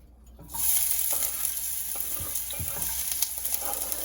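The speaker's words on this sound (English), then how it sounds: "Throw in the onion, followed by the garlic." Onion and garlic hit a little oil in a pan for an Indian kidney bean curry, a steady sizzle bursting in at once after a quiet start and holding loud and even, with a few soft stirring knocks.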